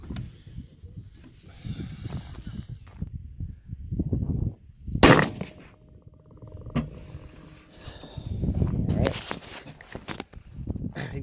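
A rifle is fired to warm up its barrels during a case volume and velocity test, giving two loud, sharp reports a few seconds apart over low outdoor rumble and shuffling.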